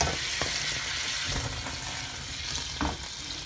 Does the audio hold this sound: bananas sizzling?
yes